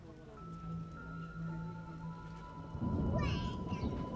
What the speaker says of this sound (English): Storms come in.